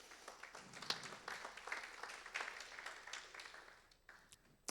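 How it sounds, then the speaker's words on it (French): Audience applause after a talk on sleep apnea, fairly faint scattered clapping that thins out toward the end. "On l'applaudit encore une fois."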